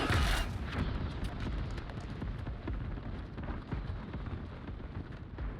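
Bombs exploding in the animated series Arcane make a dense, continuous rumbling roar with bursts of crackle, loud and with no voices.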